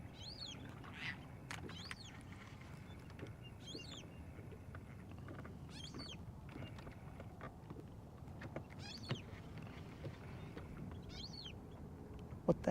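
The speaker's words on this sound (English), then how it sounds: "it's two birds, but it's like they're yelling at each other" Two birds trade loud, harsh calls back and forth near a lake with eelgrass during bass fishing, several sharp squawks spread across a steady outdoor hum with faint water sounds.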